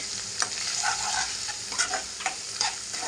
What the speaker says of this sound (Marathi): व्यवस्थित मिक्स करून घेऊया तेलामध्ये